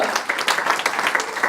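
Audience clapping at a rally against racism and sexism, a brisk, uneven patter of many hands close by, carrying on for a moment without speech over it.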